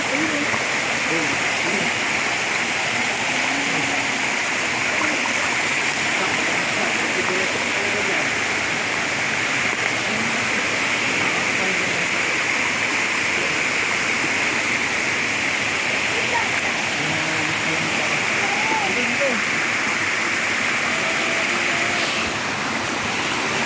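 A clear stream near a waterfall rushes with a steady, dense broadband roar that never lets up, and voices are heard talking faintly underneath the flowing water.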